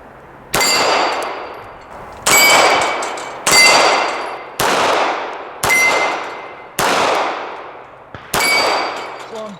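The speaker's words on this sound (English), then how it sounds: "our Sig 226, double action. Start in single action" Seven loud shots from a Sig P226 9mm pistol fired at a steady, deliberate pace, each a sharp crack followed by a ringing steel-target clang that decays over about a second.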